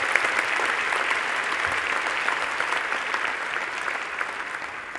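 Sustained applause from a graduation ceremony crowd honouring Earth Science and Engineering graduates, a dense, steady wash of clapping that holds at an even level throughout without any speech.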